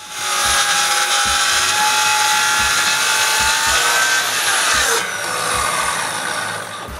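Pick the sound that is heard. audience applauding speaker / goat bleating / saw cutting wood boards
saw cutting wood boards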